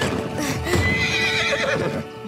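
A mustang horse in an animated film trailer lets out a loud, close neigh with a rising and falling whinny, lasting about two seconds over soft background music.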